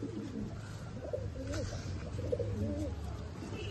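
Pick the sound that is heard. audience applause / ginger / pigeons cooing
pigeons cooing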